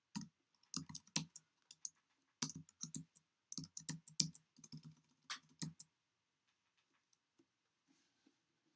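Close, crisp keystrokes on a computer keyboard in a Linux terminal come in quick irregular clusters, including Tab presses, then thin out to a few isolated taps in near silence.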